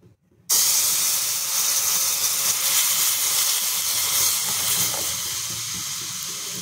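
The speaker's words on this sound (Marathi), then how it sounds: "आता ह्याच्यामध्ये आपल्याला गरम करून घेतलेला दूध टाकून घ्यायचं आहे।" Hot milk is poured into golden-roasted semolina in ghee for jaggery kheer, setting off a sudden loud, sustained hiss and sizzle that stays strong and fades only slightly.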